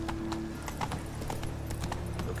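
Roach, the horse in The Witcher 3, clip-clops along at a steady walk, with regular, close hoof strikes over a constant low background hum.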